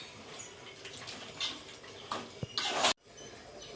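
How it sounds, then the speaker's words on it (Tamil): Water is poured into a pot of mutton curry, a short splashing pour that swells near the end and cuts off abruptly, fairly quiet with faint background sounds. "தண்ணி தேவையான அளவு வந்து தண்ணி சேர்த்துக்கலாம்"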